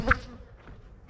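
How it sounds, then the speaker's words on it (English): A single honeybee buzzing close around a beekeeper's veil outdoors in an apiary, a brief loud whir near the start that fades into a softer, steady hum. "I got one bee hanging around. Just flew in and out of my veil."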